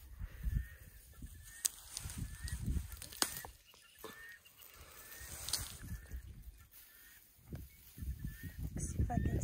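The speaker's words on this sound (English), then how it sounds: "You hear the ducks in the background." Ducks honk intermittently in the background at an elephant sanctuary, a few scattered calls at moderate distance, with someone speaking quietly in between.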